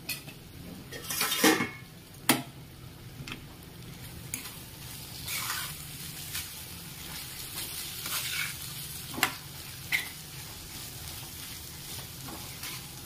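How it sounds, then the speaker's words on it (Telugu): Two spoons of chili powder fry in a pan with a continuous sizzle, broken by sharp scrapes and clanks of a spoon stirring against the metal. "దీన్ని ఒకసారి ఫ్రై చేసుకుందాం."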